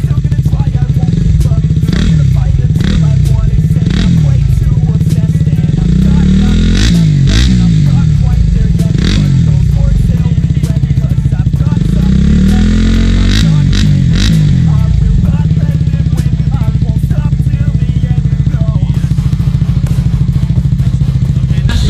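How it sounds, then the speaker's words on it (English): Yamaha MT-15 motorcycle engine running nearby, loud and close with repeated throttle blips and revving surges over a steady idle, some clattering mechanical noise, no talk. "sound check sa motor ni CJ MT-15 Yamaha."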